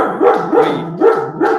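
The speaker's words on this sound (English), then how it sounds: "A cat came in and my dog's doing ballistic" A dog barks indoors, close and loud, in a quick rhythmic run of about four sharp barks with short gaps between them.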